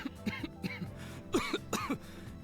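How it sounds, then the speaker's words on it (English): A character in The Symbiant coughs, a close run of short hoarse coughs in quick bursts, with a faint music bed underneath. "only to be interrupted by a cough"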